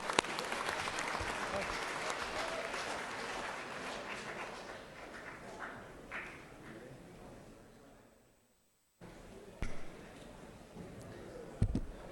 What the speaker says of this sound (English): So if you would stand up and we'll give you a little applause.